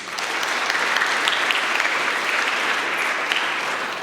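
A large audience gives steady, sustained applause for award winners at the European Youth Charlemagne Prize ceremony in Aachen. The dense clapping is even and unbroken for about four seconds.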